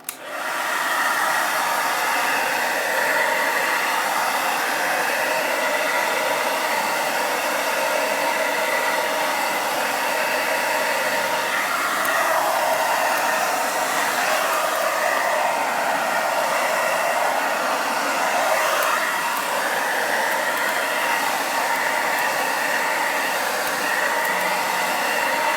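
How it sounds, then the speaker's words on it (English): A hair dryer blows continuously at a steady loud whoosh, a constant airy roar with no pauses. "I'm going to take my blow dryer and go over the section."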